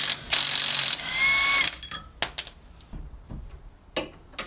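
A ratchet works on a car wheel hub nut during a wheel bearing and hub replacement, giving a loud burst of rapid clicking at the start, then several short, sharp, close mechanical clacks spread through the rest of the clip.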